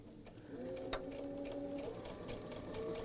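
A sewing machine runs a quarter-inch seam through quilt pieces shaped like footballs, giving a continuous close whirring drone with a rhythmic mechanical stitching pulse and small clicks.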